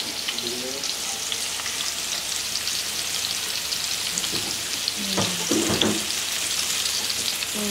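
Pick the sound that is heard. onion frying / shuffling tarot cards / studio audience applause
onion frying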